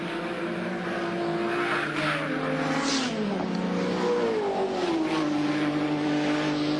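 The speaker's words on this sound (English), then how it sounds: "And here is Grice in the 16 car leading the race." A Holden VL Commodore race car at Bathurst in 1990 roars past, its engine note rising then sliding down as it goes by, loud and continuous amid other racing engine noise.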